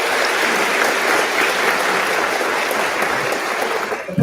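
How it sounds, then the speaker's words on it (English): Graduating high school class and audience at a commencement ceremony clap in steady, dense applause that fills the room for several seconds before cutting off abruptly. "Give yourself a round of applause"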